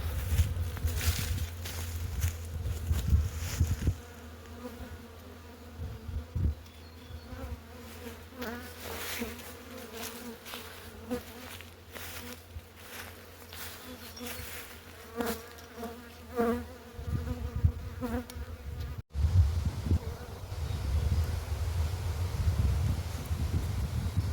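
Many bees buzz close by in a dense, continuous drone that swells and fades, with occasional light rustling, as hives are moved to buckwheat fields.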